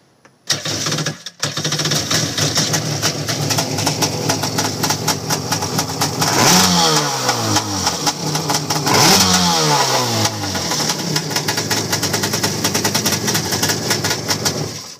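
A stationary Yamaha WaveBlaster two-stroke personal watercraft starts and idles with a raspy, throaty pipe, then revs sharply twice before settling back to a busy, crackling idle, loud and close.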